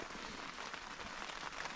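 Rain falls steadily beside a campfire on a cold summer evening, a soft even patter of drops on surfaces, faint and continuous, with nobody speaking.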